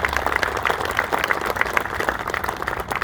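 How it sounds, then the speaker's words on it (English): Audience clapping at a Veterans Day ceremony in Massachusetts, a steady, moderately loud patter of many hands that carries evenly through the whole stretch without talk. "They truly deserve that applause."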